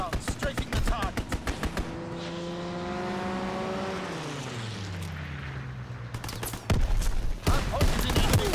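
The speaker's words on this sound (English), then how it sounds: "Fighter pilot inbound, strafing the target." A fighter plane strafing in Call of Duty WWII lets off bursts of rapid gunfire at the start and end, while a loud engine roar sweeps past in between with a falling pitch.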